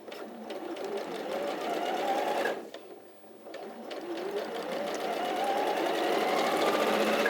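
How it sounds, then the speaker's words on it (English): A sewing machine stitches piping onto fabric, a fast steady mechanical whir that pauses briefly as the needle stays down and the work is turned, then runs on again. "leave the needle down, turn this around, and then carry on sewing"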